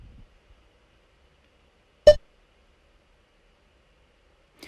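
A single short electronic beep from a workout interval timer in a HIIT circuit sounds in near silence, with faint sounds at the start and end.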